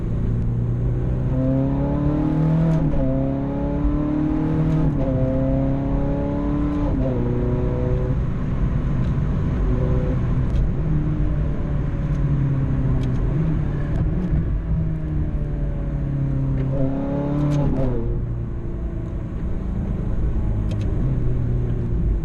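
A Ferrari 430 Scuderia's engine drones loudly from inside the car while it is driven, with steady pitch that rises on several pulls through the gears, continuous and close.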